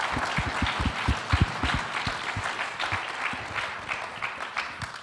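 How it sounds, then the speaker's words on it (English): A gallery audience applauds panelists of a Native American artists' talk, steady moderate clapping from a small crowd with some close, heavy claps early on, continuing evenly throughout. "Please give a round of applause for our panelists."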